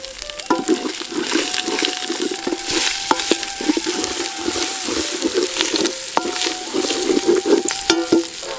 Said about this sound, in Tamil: பொடி பொடியா அரிஞ்சு வச்சிருந்த பெரிய வெங்காயத்தை சேர்த்துக்கலாம்